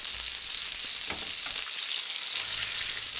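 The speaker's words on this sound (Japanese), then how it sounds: "フライパンを熱く保ちながら、時々フライパンを動かして肉の下に油を入れるような感じのイメージでゆっくりと焼いていきます" Veal sweetbreads pan-frying in hot sunflower oil over medium-high heat, giving a steady, dense sizzle with soft crackle throughout and occasional shifts as the pan is moved.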